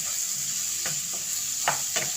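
Vegetables sauté in a hot pan with a continuous close sizzle, punctuated by a few scraping stirs of the spatula.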